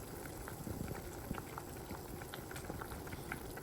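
Pork adobo simmers slowly over low heat in a pot, a soft continuous bubbling with light popping, heard close up and fairly quiet with no talk.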